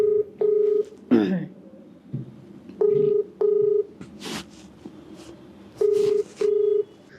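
Telephone keypad dialing tones placing a call, a series of steady beeps in pairs and clusters with short gaps, fairly loud and close, with faint rustling between them.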